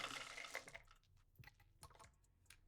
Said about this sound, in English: That's the sound of death in my dice box.